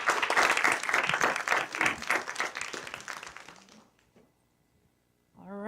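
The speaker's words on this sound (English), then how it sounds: "Let's give the speakers a round of applause." An audience at a community health panel on insomnia applauds the speakers, thick clapping that gradually thins and fades into near silence before a voice starts speaking.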